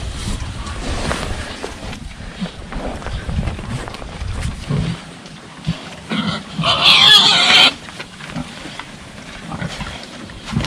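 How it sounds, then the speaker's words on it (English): Large Black pigs grunt and snuffle on a farm, with low rough grunts scattered across a noisy outdoor background and a louder burst of squealing and snorting in the middle, no talk heard. "These large black are a very docile, friendly breed of pigs."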